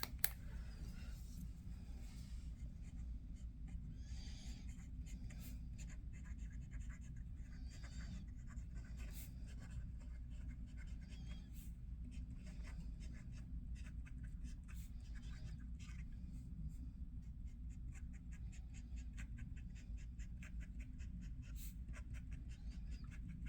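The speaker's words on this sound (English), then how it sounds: "So I will be doing writing samples with the 4 different nibs" A Pilot Vanishing Point fountain pen with an 18 karat gold extra fine nib writing on paper, a very faint, soft scratching with brief lifts of the nib, close and quiet.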